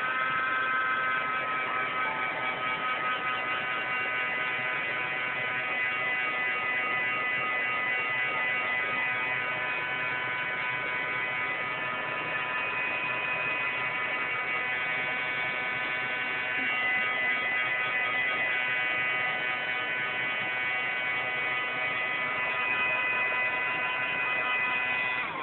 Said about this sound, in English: So here you can take your heat gun, so it's going to make a little bit of noise